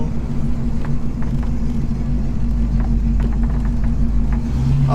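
A 1971 Pontiac Firebird Formula 455 with its big V8 climbs a hill. It gives a loud, deep, steady engine rumble from inside the car, unbroken for the whole stretch, with no talking.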